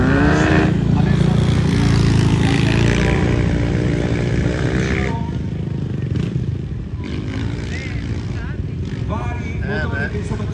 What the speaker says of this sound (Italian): vari motori che insomma girano in arena